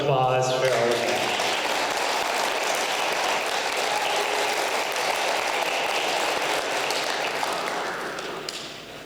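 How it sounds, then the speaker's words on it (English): An audience at a school reading contest applauds, sustained loud clapping for about eight seconds that fades toward the end, with a voice speaking briefly at the start. "Let's give a round of applause for all of that."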